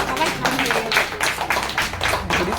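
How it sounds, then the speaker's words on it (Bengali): Audience at a Rabindra Jayanti celebration clapping loudly, a dense, sustained wash of many hands pulsing in waves, with a voice faintly mixed in. "সবার জন্য একটা জোরে হাততালি হয়ে যাক"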